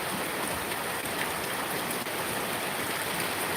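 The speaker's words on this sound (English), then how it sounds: "Waves are picking up out there farther. Coming in, they're only like little 1-footers hitting the coral" Small one-foot waves breaking on coral along a tropical Philippine shore at low tide, heard as a continuous close hiss and wash of churning water, steady and moderately loud with no talking.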